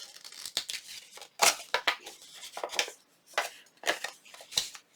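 A paper template for a faux double-pocket envelope is trimmed in a series of sharp, close snipping and tearing bursts, irregularly spaced with short pauses between cuts.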